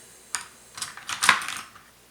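Pencils being handled on a desk: several light, close clicks and taps as the pencils knock against the surface and each other, in a short irregular burst with no speech.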